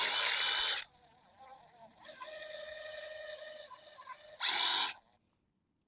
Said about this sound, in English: And now you just want to gently screw these in.